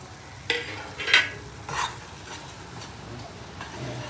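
Masala spices frying for chana masala are stirred in a hot pan, with several distinct scraping stir strokes over a faint, soft sizzle.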